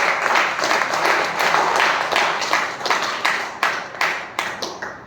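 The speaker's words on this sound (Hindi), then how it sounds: "एक बार जोरदार तालियां हो जाए।" An audience at an event for people with disabilities gives loud applause that fades into scattered, separate claps toward the end.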